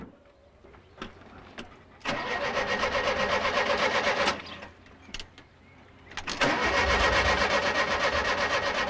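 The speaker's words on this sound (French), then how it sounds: "Le moteur a pas l'air de vouloir causer." A car engine cranks and struggles to start, with two sustained grinding bursts of the starter separated by pauses and clicks, close and loud, never catching into a steady idle.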